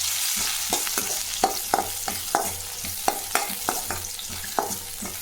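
Garlic cloves frying in sesame oil in a pan, sizzling steadily with repeated sharp scrapes and clicks of stirring at an uneven rhythm, close and alone with no talk.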